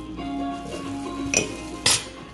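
Utensil scraping and clinking against a bowl while nugget batter with milk and flour is stirred, close and fairly loud, with two sharper knocks near the end.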